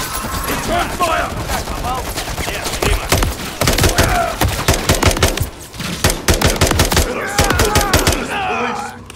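Gunfire fills a battle in Call of Duty Modern Warfare III: dense, loud bursts of automatic fire and rapid shots rattle almost without a break, with voices shouting over the shooting.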